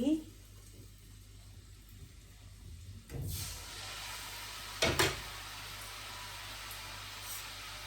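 Murukku dough drops into hot oil in a home kitchen, and after a few quiet seconds a steady broadband frying hiss takes over, with one brief knock partway through.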